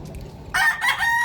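A rooster crows loudly in two bursts, with hen clucks mixed in, over quiet outdoor background on a farm after rain.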